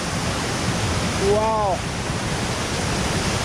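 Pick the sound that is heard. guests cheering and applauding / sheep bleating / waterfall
waterfall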